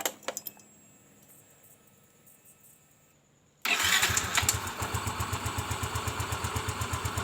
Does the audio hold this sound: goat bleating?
no